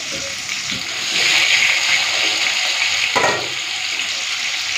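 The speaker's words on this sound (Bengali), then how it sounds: "ফুলকপিটা একটুখানি জল দিয়ে ছেঁকে দিচ্ছি।" Running tap water splashes over cauliflower florets being rinsed in a home kitchen, a steady broadband wash that swells louder for a few seconds then settles, with faint background sizzle from potatoes frying nearby.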